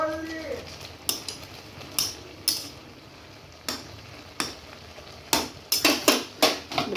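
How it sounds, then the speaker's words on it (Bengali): Potato leaf greens are stirred in a pan with a utensil, giving a series of sharp scraping knocks against the metal, irregular and close, with faint talk early on. "এভাবে নাড়তে হবে।"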